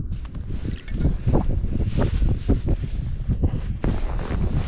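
Wind gusting over a frozen lake during ice fishing, loud and buffeting against the microphone as a continuous rumbling roar with no clear voices.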